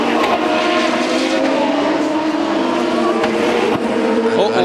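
Race car engine at the 2003 Molson Indy qualifying in Montreal, a loud sustained roar with shifting pitch as the car passes, continuous throughout with broadcast commentary likely mixed underneath.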